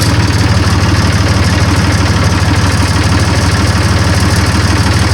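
A 2002 New Holland Ford 3230 diesel tractor engine idling steadily up close, a constant low throbbing chug with an even rhythm and no voices.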